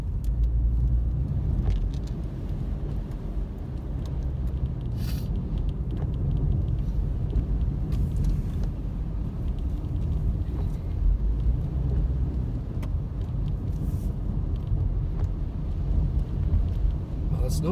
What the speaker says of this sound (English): Snowplow's moving pretty good.